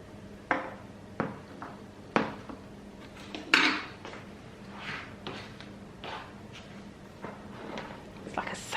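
Batter stirred by hand in a bowl for a rainbow cake, giving repeated clinks and scrapes of utensil against bowl at an uneven rhythm, close and moderately loud, with faint voices now and then.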